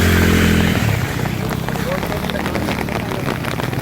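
Heavy rain mixed with hailstones pounds a road in Hubballi, a dense, loud, continuous hiss and patter that fills the whole stretch, with a voice faintly mixed in.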